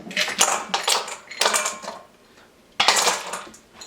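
Ice cubes clatter into a container of cold water to chill cooked shrimp, a series of bright rattling crashes in three bursts with short pauses, loud and close.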